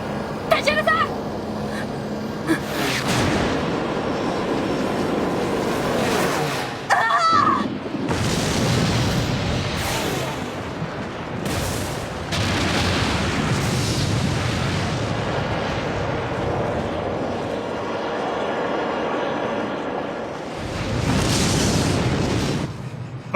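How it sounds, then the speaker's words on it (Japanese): An airship explodes and its hull tears apart in a sky battle in the anime Last Exile, heavy booms and rumbling blasts rolling continuously, loud and close, with crashing bursts recurring throughout. "爆発船体の断裂音。"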